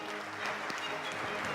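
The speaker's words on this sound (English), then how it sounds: "Please give them a round of applause." Audience applause for startup founders and their teams at an accelerator demo day in Cairo, a steady wash of clapping heard at moderate distance for a brief moment.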